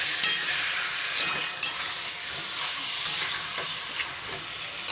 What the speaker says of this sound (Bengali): ভালো করে নাড়াচাড়া করে নিলাম।